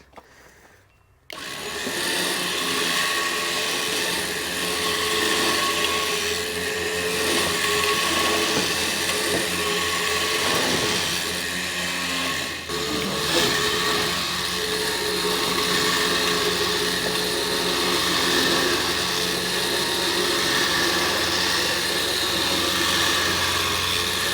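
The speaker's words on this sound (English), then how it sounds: "This is why we use the winch." A winch drags a rusty 1957 Plymouth two-door hardtop, a loud continuous motor whine and grinding drone that starts abruptly after a brief quiet moment and holds steady to the end.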